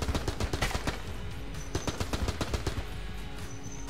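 Rapid video-game gunfire in Enter the Gungeon, an enemy firing splitting homing bullets, heard as dense bursts of sharp shots in fast irregular volleys that thin out toward the end, with no talking.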